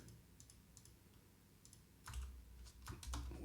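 Computer keyboard typing during a video game session, with sparse, faint key taps followed by a denser, louder burst of clicks near the end, heard alone with no talk.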